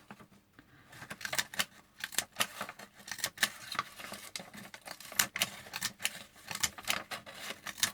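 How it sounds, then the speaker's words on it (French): A craft paper punch cuts butterfly shapes from sheet music paper, giving a series of sharp, irregular clicks and crunches close by, with soft paper rustling between punches. "Et je viens perforer aussi dans du papier de musique."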